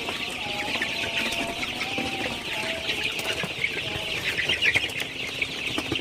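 Many Sonali super hybrid chickens clucking and chattering together in a poultry shed at night, with some wing flapping, a steady busy murmur of birds close by.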